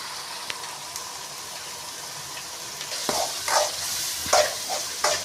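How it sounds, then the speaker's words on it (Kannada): Yogurt going into ginger-garlic paste frying in a pan, a continuous hissing sizzle that swells and turns wetter in the second half with bursts of stirring and spattering, close and loud, no talking. "ಇವಾಗ ಮೊಸರು ಹಾಕ್ತೀನಿ"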